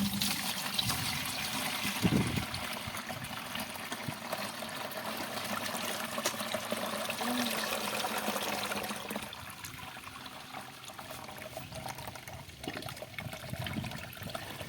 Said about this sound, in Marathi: आता याने आपण चिक गाळून घेणार आहोत